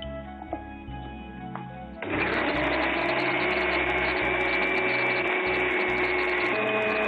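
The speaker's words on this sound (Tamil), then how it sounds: "இப்போ நம்ம அன்னாசி பழத்தையும் வாழைப்பழத்தையும் இதே மாதிரி அரைச்சு எடுத்துடலாம்" A kitchen blender grinding pineapple and banana, switching on after a couple of seconds of low hum into a loud, steady whirring roar that continues to the end.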